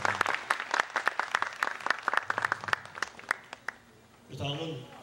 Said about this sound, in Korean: 하나님 아버지께서 박수 한번 다시.